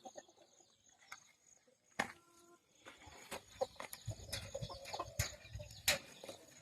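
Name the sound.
chickens clucking in a net enclosure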